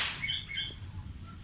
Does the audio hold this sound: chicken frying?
no